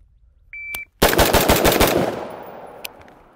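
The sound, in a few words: rifle rapid fire shots at 5 yards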